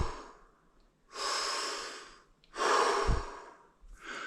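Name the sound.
long deep breathing exercise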